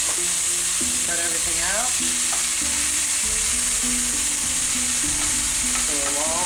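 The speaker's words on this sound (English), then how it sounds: "So we're just gonna dump everything into the pan. It's all gonna cook at once." Stir-fry ingredients frying in a hot oiled pan Mongolian BBQ style, a loud steady sizzle with spatula clatter throughout while a person speaks briefly.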